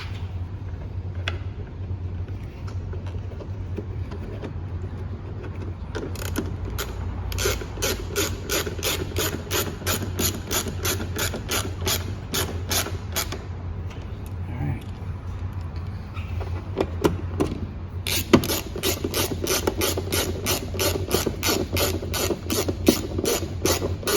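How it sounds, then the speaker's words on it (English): Screws are driven back in on a 2011-2015 Ford Explorer during turn signal bulb replacement, a ratchet clicking in rapid runs of ratcheting strokes up close, with brief pauses between bursts over faint background noise. "Now we'll put our screws back in."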